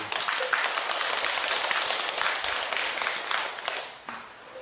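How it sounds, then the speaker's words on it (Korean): Audience applause at a Buddhist dharma talk at Baekyangsa temple: a steady, sustained crowd clapping that holds for several seconds before tapering off. "그런 박수 한번 드리고."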